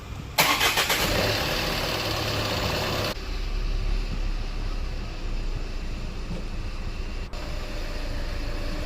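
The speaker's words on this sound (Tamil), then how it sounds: "இப்போ வண்டி நான் ஸ்டார்ட் பண்ணுறேன்." A Tata Nexon diesel car engine cranks and catches, then settles into a loud, steady idle that carries on close by with no talking.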